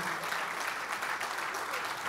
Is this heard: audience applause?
yes